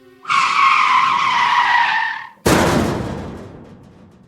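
A car's tires screech in a long, loud skid for about two seconds before the car slams into a wall with a sudden heavy crash that rumbles away as it fades.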